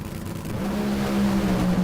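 NHRA top fuel dragsters race at Bristol, and a steady, roaring engine drone builds slightly in loudness, holding a low tonal hum throughout the short burst.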